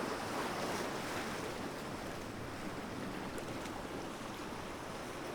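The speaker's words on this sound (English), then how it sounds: "as you just listen intently to all the various sounds that water can make" Ocean waves wash onto the shore in a continuous broad hiss and rumble, fairly faint and distant, with some wind noise mixed in.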